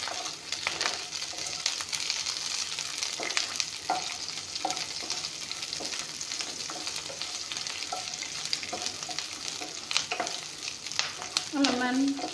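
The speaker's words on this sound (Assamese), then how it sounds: "এইখিনি অলপমান ভাজি লওঁ।" Chopped garlic and onion frying with bay leaves in a pan, a constant close sizzle with light, regular stirring scrapes and occasional clinks of the spoon throughout.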